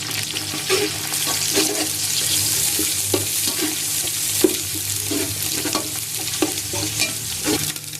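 Garlic and ginger paste frying with browned onions in a pot for chicken pulao, a steady loud sizzle with repeated spoon-stirring scrapes throughout, close and continuous.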